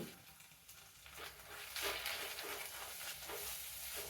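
Onions sauté in a pan over a low flame with ginger-garlic paste, a faint, even sizzle with soft stirring swells throughout.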